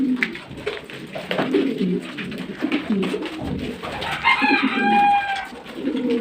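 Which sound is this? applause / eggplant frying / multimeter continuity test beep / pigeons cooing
pigeons cooing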